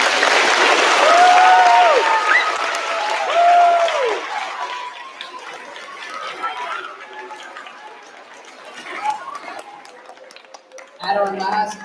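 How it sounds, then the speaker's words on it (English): Round of applause for teachers and staff at a school end-of-year assembly: a crowd claps loudly at first, with a voice carrying over it, then the clapping thins and fades into murmurs and a few scattered sounds. "So let's give them a round of applause."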